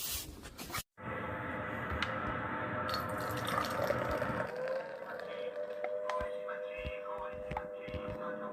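Ale pours into a glass in a steady splashing gush that starts after a brief pause, with a rising, filling tone in the second half as the glass nears full, followed by a few faint clinks and drips.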